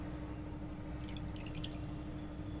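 Faint scattered drops of water fall off flour-coated chicken pieces being prepared for KFC-style frying, a brief cluster of light drips over a steady low hum.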